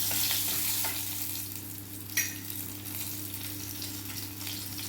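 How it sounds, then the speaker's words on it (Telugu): Garlic frying in hot oil in a kadai while making Andhra-style molla pappu gives a steady, close sizzle with soft stirring scrapes and one brief clink partway through. "ఆయిల్ వేడెక్కింది. వెల్లుల్లిపాయలు వేస్తున్నాను."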